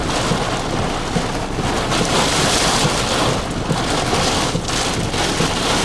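Strong wind roars during an extreme windstorm at night, a loud, continuous buffeting rush that swells and gusts throughout with heavy wind noise on the microphone, no talking.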